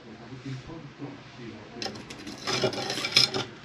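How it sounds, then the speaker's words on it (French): Old seal residue being scraped and rubbed off inside a stripped Land Rover Defender, low quiet rubbing that turns into louder rasping scrapes in the last seconds, close and dry. "Là, on frotte. regarde ça. Tu grattes."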